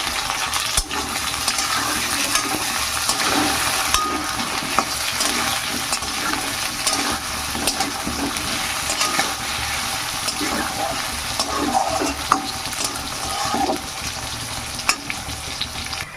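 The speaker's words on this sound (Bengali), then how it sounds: "এবার কচুগুলো দিয়ে একটু ভেজে নেবো তেলে" Chunks of taro fry in hot oil with onions and cauliflower in a pan, giving a continuous close sizzle with scraping stirs throughout and no talking.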